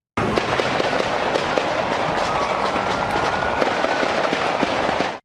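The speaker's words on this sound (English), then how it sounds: "You hear multiple rounds there." Multiple gunshot rounds from a police shooting play on a news tape, a dense run of sharp cracks and bangs lasting about five seconds with no talk over them.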